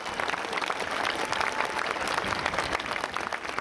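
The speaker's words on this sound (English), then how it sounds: "please give him a round of applause" Crowd at a protest march rally in Auckland applauds a speaker, loud continuous clapping from many people throughout, with no talking over it.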